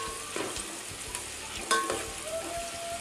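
Onions fry on a high flame in a home kitchen, giving a steady, close sizzle with occasional stirring scrapes and clinks. The sound stays moderate and even, and no one talks.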